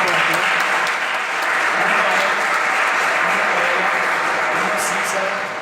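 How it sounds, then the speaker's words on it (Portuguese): A church congregation applauds the sisters who cooked in the kitchen, a steady, dense clapping that fills the room and holds at a constant level throughout. "Vamos aplaudir as irmãs."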